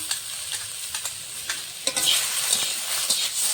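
A paste of ground green and dried chilies hits frying potatoes in a pan, giving a close, continuous sizzle with a few sharp bursts and stirring scrapes, and no voices.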